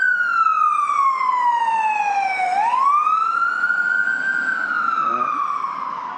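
Wailing emergency vehicle siren, loud and close, sweeping down in pitch then rising again in a long continuous tone, on a hot July day with fire brigade vehicles and ambulances about.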